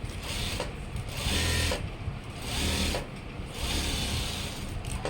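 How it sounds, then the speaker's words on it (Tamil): A sewing machine stitches a round sleeve seam on a school uniform chudidar coat, giving a close, steady mechanical whir that surges and eases in bursts of about a second with brief pauses between. "அந்த கை ரவுண்டை வந்து ஒரு தையல் போட்டுருங்க"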